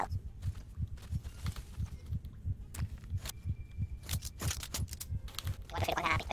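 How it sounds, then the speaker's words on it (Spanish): A heavy, pounding heartbeat from the video game Metro: Last Light thumps in a steady rapid rhythm throughout, the low pulses close and prominent, with brief game noises over it. "Los latidos estos son bastante pesados."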